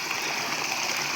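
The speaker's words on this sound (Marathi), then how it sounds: "इकडं हे धबधबा आहे हे छोटासा" A small village waterfall with low water spills over rocky ground, making a steady, close rushing and splashing wash with no voices.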